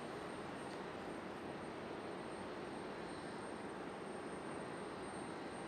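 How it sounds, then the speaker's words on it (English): Boeing 777 jet engines at Raleigh-Durham airport make a steady, distant broadband roar that stays even throughout with no pauses and no talk. "I hear the 777"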